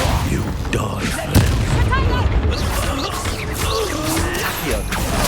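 Magical Confringo blast in Hogwarts Legacy during a duel, a loud booming burst among crackling, whooshing spell effects and continuous clashing combat noise, with a voice shouting over the fighting.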